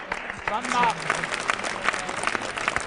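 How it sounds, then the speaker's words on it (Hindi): Audience applause at a Hindi kavi sammelan for poet Mumtaz Naseem, a short, moderately loud burst of clapping mixed with crowd murmur and a voice talking over it. "तालियां बजा दीजिए एक बार जोरदार मुमताज नसीम"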